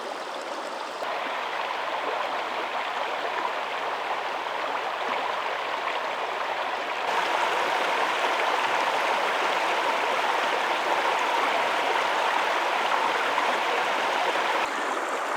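A brook runs over rocks in a nature preserve, a steady broadband rush of flowing water that holds close and constant throughout, with a slight rise in level partway through and no voices.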